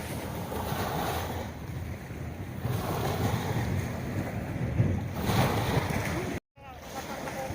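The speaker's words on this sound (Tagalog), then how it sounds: "Yan ang dagat" Sea waves wash onto a Philippine beach, a continuous surging rush that swells and fades under gusty wind, with a brief dropout near the end.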